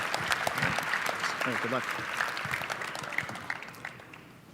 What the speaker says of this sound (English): Ladies and gentlemen, a round of applause for Mack Foote.